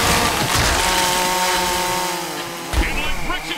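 A loud, continuous buzzing engine roar like a chainsaw runs through a football game broadcast in the MFL 2023 preseason, steady and dense before easing slightly, then broken by a sharp thump and brief bursts near the end.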